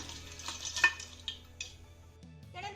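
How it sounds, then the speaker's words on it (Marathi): Chopped jaggery being stirred into amla in a pot: soft scraping and clinking of a spoon against the metal pot, a few sharp taps spaced irregularly, close and fairly quiet. "हा गुळ आपल्याला आवळ्यांमध्ये चांगला असा मिक्स करून घ्यायचा आहे"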